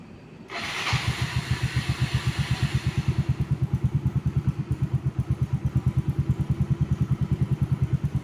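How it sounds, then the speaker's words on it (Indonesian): A motorcycle engine, switched on from a phone over Wi-Fi, cranks briefly and catches, then settles into a steady, close, rhythmic idle thump that runs evenly to the end, with no talking. "Menghidupkan motor dengan HP dengan jaringan Wi-Fi."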